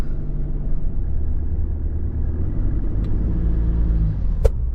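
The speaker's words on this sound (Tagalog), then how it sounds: "Grabe ang traffic." Road traffic, with a steady, close car engine rumble and road noise, and a brief sharper sound near the end.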